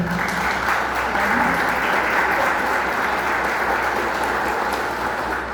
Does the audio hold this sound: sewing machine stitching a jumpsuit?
no